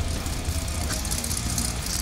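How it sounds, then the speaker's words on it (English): A Ford Nova drag car engine rumbles loud and close at a drag race event, a dense low idle with steady throbbing pulses over two seconds. "A Ford Nova. Well, if my car sounded like that"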